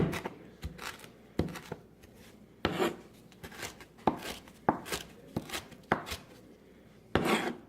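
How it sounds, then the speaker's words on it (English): A knife rough-chopping cilantro on a cutting board, about a dozen crisp irregular thuds with soft rustling between, close. "You probably just want to get a pretty good rough chop so you don't have big giant pieces of cilantro in there"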